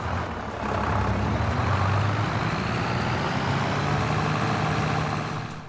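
A deep Farming Simulator 22 video game tractor engine drones and strains under load, rough and heavy, with a low growling hum holding steady throughout.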